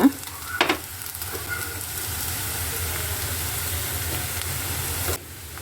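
Okra sizzles steadily in a hot pan with onion and curry leaves, a continuous close frying hiss with a few brief stirring knocks near the start, cutting off abruptly just before the end.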